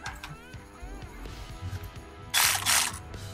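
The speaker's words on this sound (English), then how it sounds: "let's get our 10 millimeter here and here, 10 millimeter socket and ratchet" A 10 mm socket on a ratchet works on a Jeep JK during a CB radio PA speaker install, with close metallic clicks and clatter followed by a brief louder burst of ratcheting or rustling.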